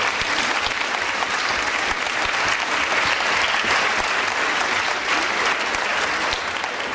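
Audience clapping steadily through a religious teaching session, a dense, loud and sustained round of applause from a large group, with no talk over it.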